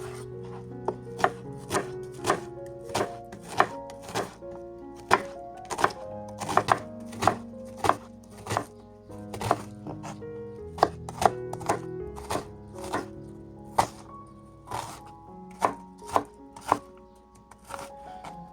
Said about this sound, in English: Finely chop 1 onion